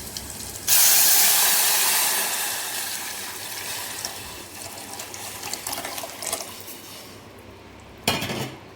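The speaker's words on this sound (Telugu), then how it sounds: "ఇప్పుడైతే రసాన్ని దీంట్లో పోసుకోవాలి." Rasam is poured into a hot pan of tempering with crushed garlic, setting off a loud burst of sizzle and hiss that slowly settles into steady frying, with a second sharp sizzle near the end.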